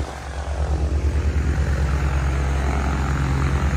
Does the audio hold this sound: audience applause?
no